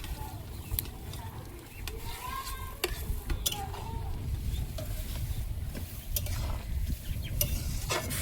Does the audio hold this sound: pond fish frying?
yes